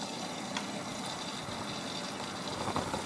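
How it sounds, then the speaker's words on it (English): A Miele W562 washing machine fills with water at the start of a 95-degree cottons wash with extra water, giving a quiet steady hiss and trickle of inflow with a few faint clicks. "I'm going to do my favourite 95 Cottons 95 degrees with Water Plus for extra rinse and top up level"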